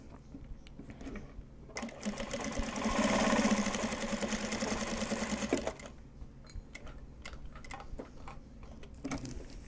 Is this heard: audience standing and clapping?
no